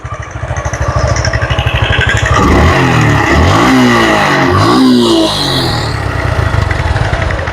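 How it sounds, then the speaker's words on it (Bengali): A used Suzuki Gixxer FI ABS motorcycle engine idles close by, then revs up and back down in a smooth rising and falling swell before settling to a steady outdoor idle. "দেখেন গাড়িটা কিন্তু স্টার্ট করেছি"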